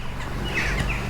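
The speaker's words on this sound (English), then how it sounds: "the singing of the birds" Faint birdsong with a few chirps rising over a soft outdoor hum beside a small stream in a rural folk park, quiet and steady throughout.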